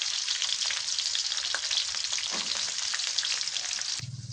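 Chopped onion and garlic fry in oil in a pan for beef tripe bhuna, a steady close hiss and crackle with faint stirring, ending in a quieter low hum.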